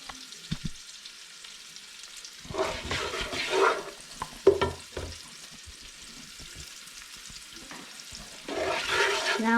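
Fried rice crackles over a medium flame as it is stirred in a pan, with bursts of louder sizzling and scraping between quieter stretches and no voices.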